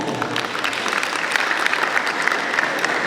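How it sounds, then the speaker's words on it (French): Sustained applause from an audience at a student talent show, a dense, steady patter of many hands clapping at once that continues evenly for the full few seconds. "Mesdames et messieurs, sous vos applaudissements."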